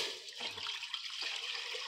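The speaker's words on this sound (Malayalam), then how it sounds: "അതിനകത്തോട്ട് വെള്ളം ഒഴിച്ചു കൊടുക്കാം." Water being poured into a hot cooking pot set on an outdoor stove, a steady rushing splash that runs for about two seconds with no talk.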